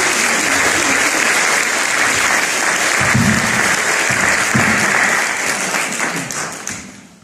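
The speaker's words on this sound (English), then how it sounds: "Give him a round of applause." Church congregation at a Sunday service giving a round of applause: full, continuous clapping from a sizeable crowd, a few low voices murmuring beneath, gradually thinning and fading out at the end.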